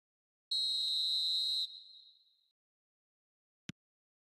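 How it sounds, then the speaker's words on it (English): A referee's whistle in the eFootball video game sounds one loud, shrill blast of about a second that fades out, followed later by a single sharp click. "Whistle's gone, that's a foul."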